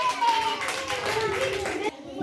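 A group of children and audience members at a Hindi general-knowledge quiz clap together in steady applause for nearly two seconds, with a voice and kids' chatter running under the clapping before it stops.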